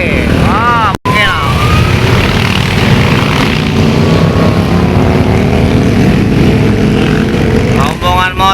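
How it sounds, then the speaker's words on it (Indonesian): A group of big motorcycles passes on a road, a loud, continuous engine roar filling the whole stretch, with a short chirping sound and a brief dropout near the start. "Rombongan motor gede."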